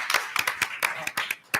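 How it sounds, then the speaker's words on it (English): A round of applause from the audience at a North Merrick Board of Education meeting, a short burst of scattered, uneven handclaps close by that fades out and then ends on one firm clap. "a big round of applause for her"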